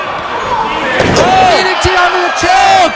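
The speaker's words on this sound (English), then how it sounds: "DDT onto the chair." A wrestler hits a DDT onto a chair during a GCW match against another wrestler, a sharp loud impact amid a cheering crowd, with excited commentary talking over it.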